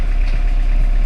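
A Sim Wolf 125 motorcycle engine idling close by, a loud, steady low rumble with an even pulsing throb and no voices.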